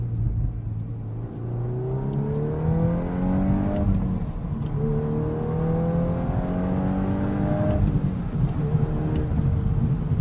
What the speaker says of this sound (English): Ooh, we've got some bassy exhaust notes here.